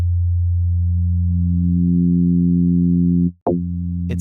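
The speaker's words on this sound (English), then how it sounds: "It's modulating the sine wave itself to introduce this little strange kind of dip in the original sine wave." A steady, pure FM-synthesis sine tone holds with rich harmonics, then briefly dips and cuts out before returning, with a faint high flicker at the end.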